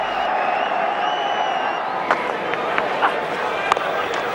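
Cricket crowd at a 2003 World Cup match with India applauds Sachin Tendulkar's half century, a broad sustained roar of clapping and cheering across the ground with a few sharp bursts standing out.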